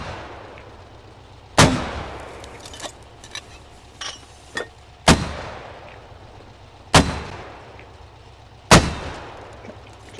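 A mortar in the video game SQUAD fires four times at intervals of a few seconds, each a sharp, loud thump with a short decaying tail, with lighter clanks and clicks of handling between shots and no talking.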